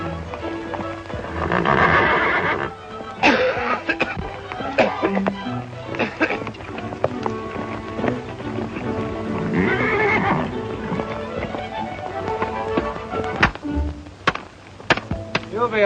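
Horse neighing and clopping hooves in a 1937 western film, loud whinnies rising over rhythmic hoofbeats, with a voice speaking partway through.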